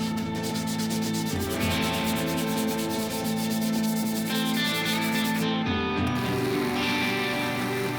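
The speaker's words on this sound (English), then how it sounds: "Finally, the final phase in sanding." Continuous mechanical sanding hum with a steady abrasive rub against wood, loud and close, running without pause.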